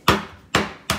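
Three sharp hammer strikes knock at the corner of a piece from a science discovery kit, each a loud, close crack with a short ringing tail, spaced about half a second apart and heard alone.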